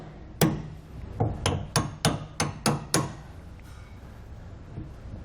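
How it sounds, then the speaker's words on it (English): Hammer blows knocking bolts out of a Dexter E-Z Flex RV suspension on a 2017 Grand Design Reflection: seven sharp metallic strikes in a steady rhythm, the first loudest, close and clear against a quiet background. "If you have no intentions on reusing them, then you can just hammer them right on out."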